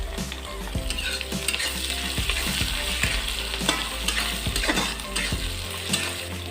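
Mustard seeds, green chilli, garlic and ginger frying in coconut oil for Kerala-style kappa biriyani, a loud continuous sizzle with repeated clinking and scraping stirs throughout.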